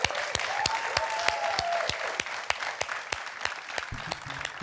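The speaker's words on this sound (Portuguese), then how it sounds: "Um grande aplauso para ele" A studio audience on an afternoon television show claps, a steady run of distinct, evenly spaced claps rising over a light murmur of crowd noise.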